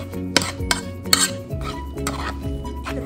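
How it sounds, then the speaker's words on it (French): A utensil stirring a thick egg mixture in a bowl while making a marcouda, with a few sharp clinks against the bowl early on followed by softer continuous mixing scrapes, close and without speech. "Je vais mélanger."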